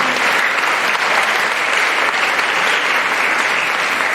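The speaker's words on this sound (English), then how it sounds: "Can you give them all another big round of applause for our judges this evening?" Steady, dense applause from a pageant audience fills the hall, loud and continuous with no pauses or voices on top.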